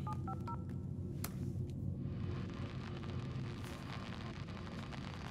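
A phone keypad being dialed in a tense horror film scene, a few quick faint electronic tones at the start over a heavy low rumbling background drone, with no talk.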